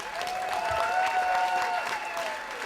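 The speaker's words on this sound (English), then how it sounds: "Keep applauding it, jerks." Audience applause at a storytelling slam in New York, steady clapping from a crowd with faint cheering and whistles running through the short burst.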